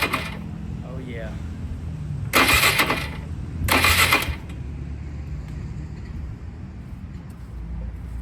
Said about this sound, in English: Doesn't even spin it without cranking the motor.